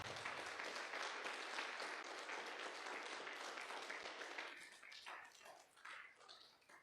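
A church congregation claps for God in a loud, full round of applause that thins into scattered, uneven clapping toward the end, with a few voices audible underneath.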